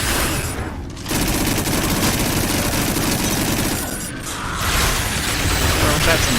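Sustained heavy weapon fire, rockets and a plasma rifle, roars almost without pause against a huge spider in the VR shooter Farpoint, loud and close with brief dips.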